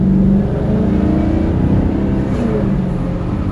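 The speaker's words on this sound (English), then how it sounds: "I honestly think the exhaust can be a little bit louder on this car." A Maserati's V8 engine rumbles steadily with a deep exhaust note, fairly loud and close, briefly swelling at the start.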